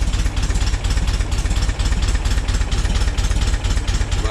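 A 1966 Volkswagen Split Bus engine idles low and steady at about 500 RPM with a sputtering fault, giving a close, loud, evenly pulsing chug that holds throughout with no talking.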